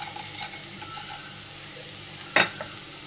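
Onions and peanuts fry gently in a pan for kanda poha, making a low, steady sizzle close by, broken once by a sharp clink of a utensil.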